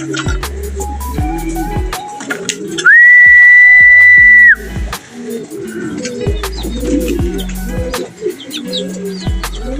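Racing pigeons coo repeatedly near the loft as birds arrive, with a loud steady whistle blast in the middle and low voices and movement underneath.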